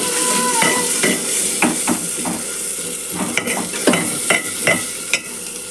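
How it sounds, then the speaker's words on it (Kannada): Tomatoes frying in a little oil in a pan for idli sambar, a steady sizzle running throughout with repeated scraping and clinks of a spoon stirring against the pan, close and fairly loud. "ಟೊಮೆಟೊ ಸ್ವಲ್ಪ ಎಣ್ಣೆಗೆ ಫ್ರೈ ಮಾಡ್ತೀನಿ"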